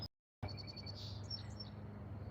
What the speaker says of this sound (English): That sounds like a robin.